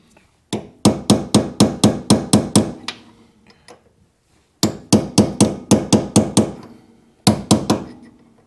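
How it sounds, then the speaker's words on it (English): A flat-sided punch is hammered to flatten a washer during front-end suspension work on a 1991 Honda Accord. Three loud, close bursts of sharp metallic blows come in fast even rhythm, roughly nine strikes, then seven, then three, with quiet gaps between. "I used this flat-sided punch to whack it flat"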